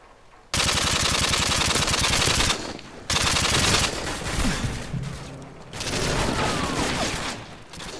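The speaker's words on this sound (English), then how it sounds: "Sentry gun ready for deployment." Sentry gun in Call of Duty: Modern Warfare 2 on PC, a loud rapid automatic burst followed by further sustained bursts, with short gaps and other game noise in between.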